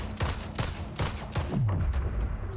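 Gunfire in the portal shooter Splitgate: four or five sharp, evenly spaced shots ring out, then a deeper booming sweep as the last one trails away.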